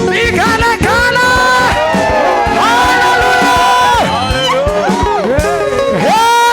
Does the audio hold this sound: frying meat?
no